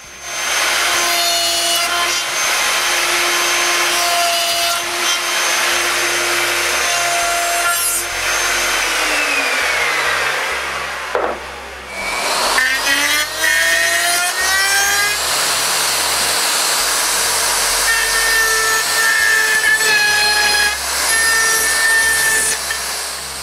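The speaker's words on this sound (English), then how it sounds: "I make 6 of them with my dovetail jig." A router cuts wooden dovetails in a dovetail jig for modular bookshelf cubes. A loud, continuous high whine runs throughout, with a brief dip partway through before the cutting resumes.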